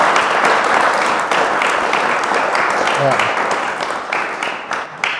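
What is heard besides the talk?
audience applause for panel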